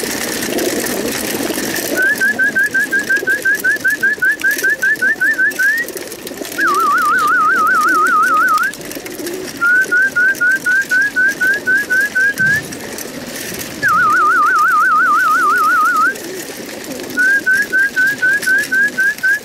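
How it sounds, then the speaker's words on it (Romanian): Pigeons being fed by hand give off repeated trilling, warbling calls in regular bursts separated by short pauses, loud and close over a steady background hiss. "Să filmăm aici cum hrănesc băieții porumbei."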